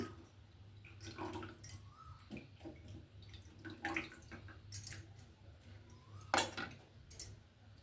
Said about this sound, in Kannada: ಹುಣಸೆ ಹಣ್ಣನ್ನು ನೆನೆಸಿಟ್ಕೊಂಡಿದ್ದೆ ನಾನು ಅದರ ರಸನ ಇದ್ರಕ್ಕೆ ಹಾಕೊಳ್ತೀನಿ